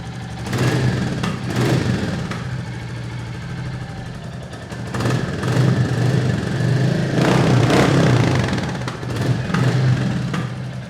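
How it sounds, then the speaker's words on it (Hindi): A 2021 Royal Enfield Classic 350 motorcycle idles after starting, its low thumping single-cylinder beat steady and close, with a few blips and swells in volume across the stretch, no talking. "ये गाड़ी स्टार्ट हुई।"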